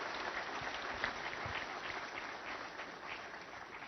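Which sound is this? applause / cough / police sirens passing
applause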